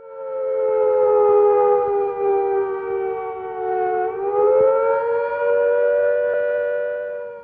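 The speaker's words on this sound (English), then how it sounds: "a key was to be turned to activate local air raid sirens" A Cold War era air raid siren wails loudly and steadily, its pitch sagging slowly, then rising again, in one long continuous tone.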